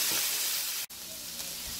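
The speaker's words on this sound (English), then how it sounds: "you're going to allow it to fry really well for about 5 to 6 minutes" Ground beef for Guyanese beef patties frying in a pan, with a continuous bright sizzle and hiss, briefly broken by a short pause and then resuming steadily up close.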